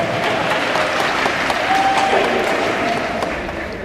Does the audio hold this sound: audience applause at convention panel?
yes